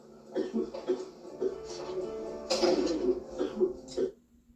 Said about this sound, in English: he was coughing a lot